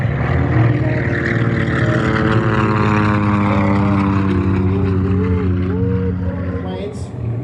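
A Grumman J2F Duck propeller biplane passes at the Bremerton air show, its loud droning engine and prop whine steady and close before easing slightly at the end.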